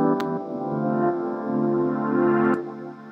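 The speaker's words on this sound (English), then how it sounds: "So for the cloud diving pad, I added reverb to make it sound larger and wider" A synth pad loops with added reverb, sustaining a wide, lush chord texture throughout, with a small attack near the start and a slight swell before a soft cutoff near the end.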